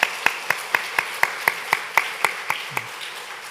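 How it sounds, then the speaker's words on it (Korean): Church congregation clapping in unison for youth attending a Sunday morning service, about a dozen slow, evenly spaced claps in a steady rhythm, fading slightly toward the end. "오늘 중고등부 참석한 아이들에게 한번 격려의 박수 보내주시기 바랍니다"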